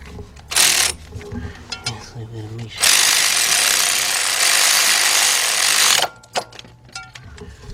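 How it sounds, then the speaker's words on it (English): A 14mm deep 3/8-drive socket tightens a bolt during an engine rebuild on a 2006 Kia Sportage 2.7, giving a loud rasping ratchet burst of about three seconds between short bits of talk and shop clatter. "got my 14mm deep 3/8 drive socket. Let's tighten up this bolt right here."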